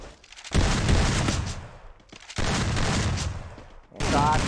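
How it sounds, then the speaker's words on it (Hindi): Booming blasts from grenades in the mobile battle royale Garena Free Fire come in three loud bursts, each with a long rumbling decay, and a clear ringing tail follows the last one. "प्यारा ग्रेनेड लगाते हैं"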